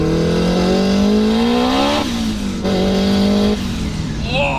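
Big-turbo Honda S2000 with a sleeved engine revving hard close by, pitch climbing through gears with abrupt shift breaks and a short turbo whistle near the end.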